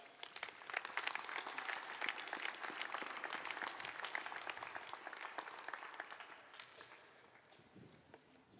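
Commencement crowd at a college graduation applauding a speaker, dense clapping from many hands that builds quickly, stays full for several seconds, then thins and fades toward the end.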